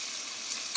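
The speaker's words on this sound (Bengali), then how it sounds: "কাঁচা কলা আর পেঁয়াজ একসাথে আমি ভেজে নেব" Raw green banana and onion fry in a pan with a soft, steady sizzle, faint and close, ending in a brief scrape or stir.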